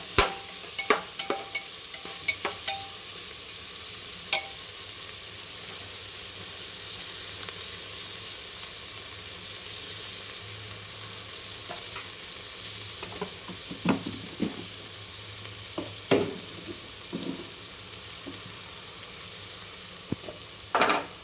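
Onion masala fries in a pan for biryani, a soft continuous sizzle under intermittent clinks and scrapes of stirring, busier near the start and toward the end.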